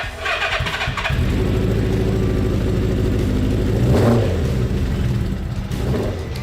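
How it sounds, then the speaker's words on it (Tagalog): A restored Suzuki Katana motorcycle engine catches after cranking, then runs with a rough, loud idle and a sharp rev that swells and falls back, followed by another blip, close up and alone. "sa kabila nito, napaandar na din natin ang legendary bike."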